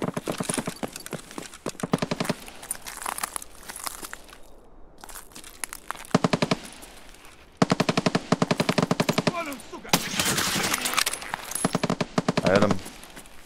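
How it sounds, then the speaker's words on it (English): Gunfire from Escape from Tarkov, including an AKS-74U, comes in rapid automatic bursts of sharp repeated cracks, loud and close, broken by brief pauses and a few quieter stretches. "who the fuck is shooting?"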